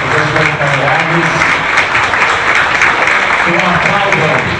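Applause fills a plenary council meeting of an environmental board, a dense steady wash of clapping from the assembled members with voices mixed in, continuous and fairly loud throughout.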